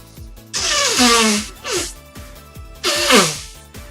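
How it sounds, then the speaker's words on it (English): Three or four breathy bursts that fit a person sneezing indoors, strong and close, with a low repeating ticking underneath throughout. "I hope I sneezed in your drink."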